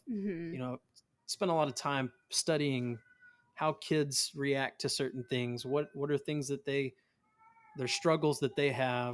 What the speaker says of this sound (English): my cat in the background is like howling